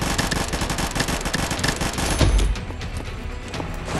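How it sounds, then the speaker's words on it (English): Dense continuous gunfire in the video game Combat Masters, rapid overlapping shots in a loud unbroken rattle, with a heavier boom midway before the volley thins out slightly. "Every time I'm shooting somebody else, I get shot in the back."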